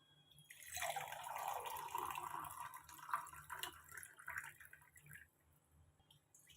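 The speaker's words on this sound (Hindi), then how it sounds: "2 ग्लास पानी ऐड करेंगे।" Two glasses of water pour steadily into a cooking pot for a few seconds, a close, bright splashing stream that tapers off into faint drips, with no talking.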